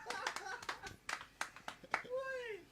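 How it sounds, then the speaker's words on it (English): A studio crew gives a quick round of applause at a radio station, a handful of close, separate claps, fairly faint, mixed with talking, followed by a short voice that rises in pitch. "Studio crew, give her a round of applause."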